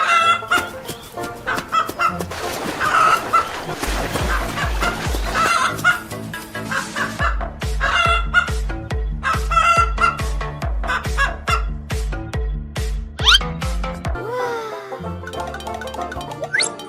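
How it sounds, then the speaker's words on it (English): Cartoon chicken clucking and a rooster crowing sit over a bouncy music track with a steady beat, several bursts of clucks coming close and loud, with a sliding sound effect near the end. "Chicken."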